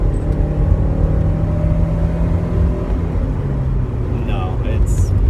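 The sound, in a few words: Porsche 944 engine after downshift to third gear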